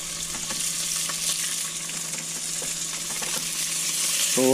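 A steady, close hiss of callop frying in butter on a River Murray houseboat, the sizzle building slightly louder toward the end.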